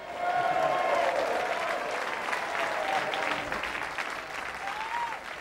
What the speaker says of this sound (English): Please give another round of applause to Jason and Lisa Pozzo